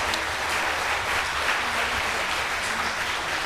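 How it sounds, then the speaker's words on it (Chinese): Steady audience applause at a charity concert for blind and visually impaired elderly people living alone, honoring music class students; dense, continuous clapping holds evenly throughout with no speech. "我们再给音乐班的同学们最热烈的掌声。"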